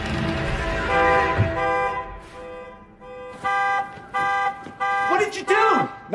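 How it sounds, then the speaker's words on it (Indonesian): Car alarm going off in a film scene, loud repeated honking blasts in a regular on-off rhythm following a long sustained horn tone, with a voice talking over part of it. "Emma pun menghidupkan alarm mobil untuk mengalihkan perhatian Jimmy dan Bobby."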